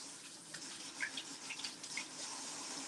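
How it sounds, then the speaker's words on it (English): A kitchen faucet runs in a steady, soft hiss while hands are rinsed clean of falafel mixture, with a few faint splashes breaking the stream. "I'm gonna rinse my hands from all"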